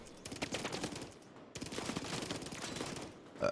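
STG44 assault rifle in a video game, fired in two sustained full-auto bursts during a recoil test, loud and rapid with a short gap between bursts and a brief tone at the end.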